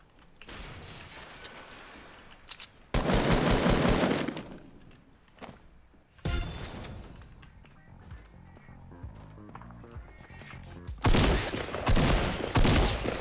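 Hunter rifle gunfire in the video game Fortnite Battle Royale comes as several loud, dense bursts of rapid shots, separated by quieter stretches of in-game sound.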